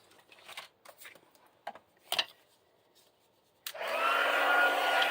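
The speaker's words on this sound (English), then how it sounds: "I'm going to bring in my heat tool." A few light handling taps and clicks come first, then an embossing heat tool switches on and blows a loud, steady whirring rush of hot air up close until the end.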